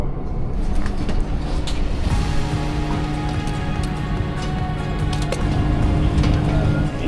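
A short airport apron bus ride out to a waiting German Airways E190, with a steady low engine rumble and road noise inside the bus and occasional clunks and rattles.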